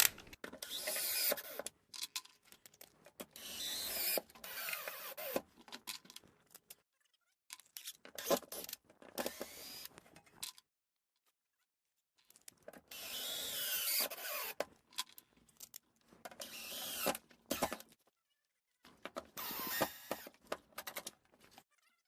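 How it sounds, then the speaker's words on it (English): A power drill drives large permanent screws while mounting an air conditioning split system, sounding in several separate bursts of whirring and mechanical grinding with short silent gaps between them; no one speaks. "I'm going to put my permanent screws in"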